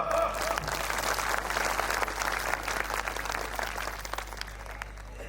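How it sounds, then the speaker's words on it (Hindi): An audience at a religious satsang gathering claps steadily in a dense wash of applause that tapers slightly toward the end, with a low hum underneath. "इस बात पर तो ताली बजा दो"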